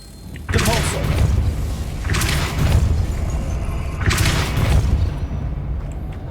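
Depulso force spell impacts in the Hogwarts Legacy video game, three heavy booming thuds a couple of seconds apart, each with a rushing wash of noise, close and loud.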